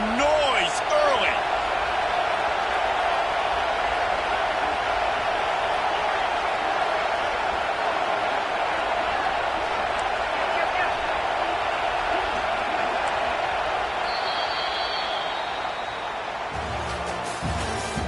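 A stadium crowd at a football game roars in a steady, dense wall of noise with a commentator's voice over it, the cheering staying loud throughout.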